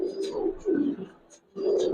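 Racer pigeons cooing up close in soft, repeated low throaty phrases with brief pauses between them, with no talking over them.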